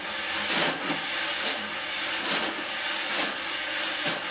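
Wire jazz drum brush played flat against a drumhead, a muffled, breathy swish repeating in a steady pulse about once per second, close and alone.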